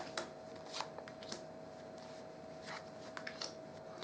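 Playing cards from the Shadows Over Camelot card game are gathered and laid out in groups on a table, giving quiet, scattered soft slaps and brief shuffles spread over a few seconds against a faint steady hum.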